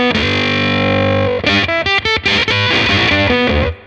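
JPTR FX Silvermachine octave fuzz pedal pushed into a dissonant, ring-modulator-like tone, loud and close: a long sustained buzzy note followed by a run of choppy, rapidly changing notes, with no talking.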